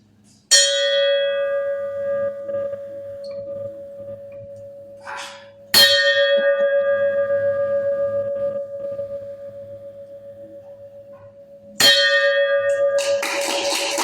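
A single bell rings three times with sharp metallic strikes a few seconds apart, each leaving a long, slowly fading ring that dies away before the next stroke.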